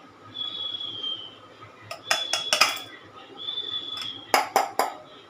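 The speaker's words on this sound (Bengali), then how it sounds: "এটাকেও আমি ওই দুধের মধ্যে মিল্ক পাউডারটা দিয়ে দিচ্ছি মিশিয়ে" A spoon clinks against the sides of a vessel while stirring milk powder into milk, in short bursts of metallic taps near the close, between quieter stretches with a faint high whine.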